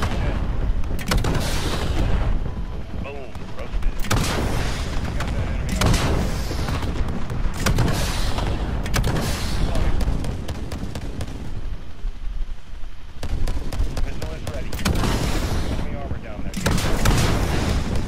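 Air support firing on enemy targets in a Call of Duty Modern Warfare campaign mission, a near-constant roar of loud, heavy cannon and explosion bursts with brief dips between barrages and faint radio voices underneath.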